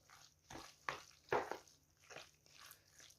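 Soft wet squelching and squishing as minced meat for dumplings is mixed by hand with cold water, in several irregular bursts, close and fairly quiet.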